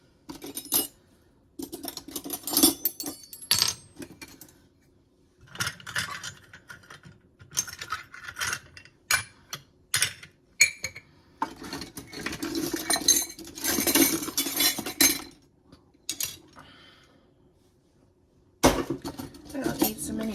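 Scissors and metal utensils clink and rattle in short irregular bursts as a drawer is sorted, close by, with quiet pauses between handfuls and a longer jumbled stretch of clattering.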